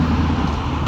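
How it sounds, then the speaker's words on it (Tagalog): Passing cars in street traffic, a brief steady roadway rumble of engines and tyres at moderate distance, heard without voices. "Yan guys ang mga sasakyan."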